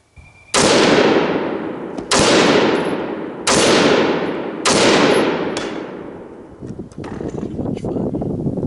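Four loud, sharp rifle shots from a short-barreled rifle crack out about a second and a half apart, each followed by a long decaying echo, with an outdoor background of noise afterward.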